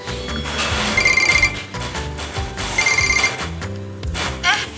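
A telephone rings in repeated bursts, loud and close, over a steady background of music, with no speech.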